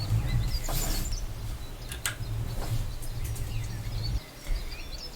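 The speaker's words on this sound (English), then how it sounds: "The sound of that bird song is actually a really nice feature added to the map" Bird song ambience from the Farming Simulator 19 game map, with scattered chirps and tweets above a steady low engine-like drone, fairly faint and continuous throughout.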